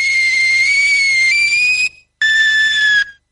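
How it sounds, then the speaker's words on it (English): A shrill kettle whistle with a steady high tone, sounding loudly twice: a long blast, a brief gap, then a shorter one that trails off. "And this is a kettle, wolf whistling at the bread bin."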